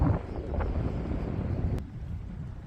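Wind buffets the microphone on the River Don during a fishing session, a steady low rumbling roar that eases slightly near the end, with no speech.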